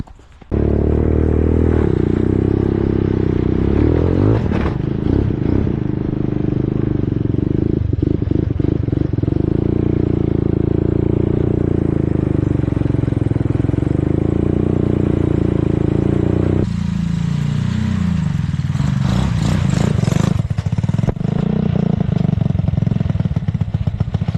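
A quad ATV tears through snow with a loud, continuous engine roar held near and steady. Revs rise and fall over the stretch, with scraping clatter and a sharper surge near the end as the throttle opens.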